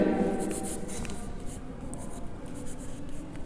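Marker or chalk scratches across a board during a grammar lesson, a few soft strokes with squeaky tails heard close over quiet room noise.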